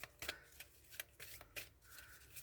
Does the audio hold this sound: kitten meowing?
no